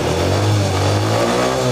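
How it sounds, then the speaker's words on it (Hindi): A Honda Dream Yoga motorcycle with a CDI fault revs steadily and loudly up close, its mid-pitched engine drone holding high throughout with no talk over it. "और बाइक को हम रेस करेंगे।"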